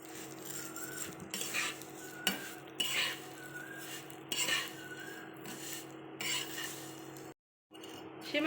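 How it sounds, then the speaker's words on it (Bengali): Semai vermicelli frying in a pan for an Eid sweet, with a metal spoon scraping and clinking against the pan in irregular strokes over a faint sizzle, quiet and close, with a brief silent gap near the end. "সেমাই ভেজে নেব।"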